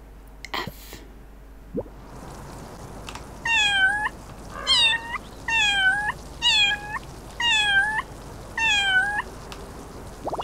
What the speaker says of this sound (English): Let's figure out how we were doing the meowing.